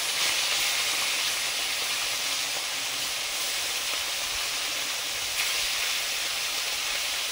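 Small fish fry in a generous amount of hot oil in a pan, giving a dense, continuous close-up hiss that holds steady throughout with no voices.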